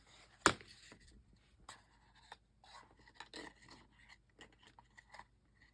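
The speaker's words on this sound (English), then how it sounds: "I'll go ahead and burnish those." Paper folds being burnished for a notepad cover make soft, close rubbing and scraping strokes, with one sharper scrape near the start and then quieter intermittent rasps.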